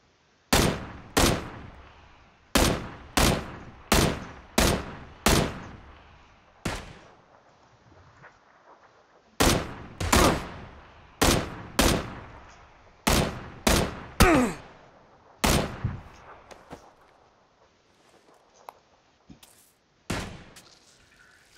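Rifle shots ring out in PUBG as loud, sharp single cracks that come in quick rhythmic groups, each one trailing into a short echo, with pauses between the volleys and no talking.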